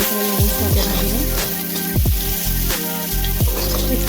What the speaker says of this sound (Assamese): এতিয়া মই ভালদৰে ৰঙচুৱাকৈ ভাজি লম